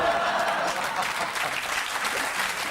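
A French television studio audience on Canal+'s Nulle part ailleurs applauds loudly and densely, a close, sustained wash of clapping throughout.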